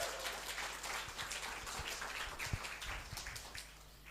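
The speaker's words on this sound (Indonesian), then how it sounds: "Tepuk tangan dulu dong" A church congregation at GBI Shine and Glory Cempaka Mas claps together, a faint, distant patter of hands with a few sharper claps standing out before it thins toward the end.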